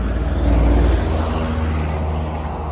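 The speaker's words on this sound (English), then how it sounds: "Sorry for the noise, it's rush hour lunchtime around here." Steady, loud low rumble of engines from dense lunchtime rush-hour road traffic nearby, with vehicles idling and moving without pause.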